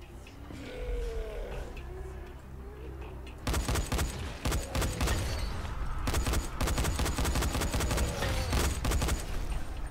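Rapid bursts of gunfire in the video game Dying Light, sharp repeated shots in dense volleys after a few seconds of low growling and grunting from a creature, with no talk.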